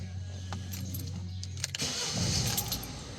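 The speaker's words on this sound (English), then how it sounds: "Car running." Peugeot Partner engine cranks and catches about midway, settling into a steady, fairly loud running drone after a low hum with light clicks, close by.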